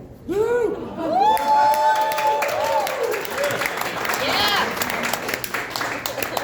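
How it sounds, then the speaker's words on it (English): A stand-up comedy audience cheers and applauds with whoops and shouts, loud and sustained throughout, while a voice speaks over the noise. "Hold the applause. Hold the applause."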